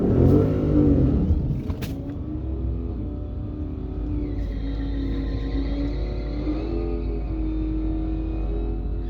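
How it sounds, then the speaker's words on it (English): A red 2015 Mustang launches hard at a drag strip, its engine revving loud and close before settling into a sustained, steady roar of acceleration that holds for several seconds. "I'm going to hold the e-brake this time and launch hard."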